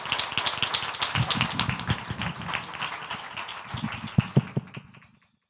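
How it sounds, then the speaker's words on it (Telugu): Audience applauding the MLA at a Christmas celebration, a dense burst of many hands clapping with sharp individual claps standing out, then fading away to silence. "చప్పట్లు కొడదాం అందరం కూడా బిగ్గరగా"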